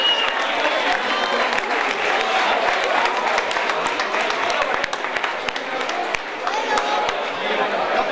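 A crowd claps for trophy winners at an urban mile and half-marathon awards ceremony, dense sustained applause with crisp individual claps throughout, mixed with crowd chatter and a voice talking over it.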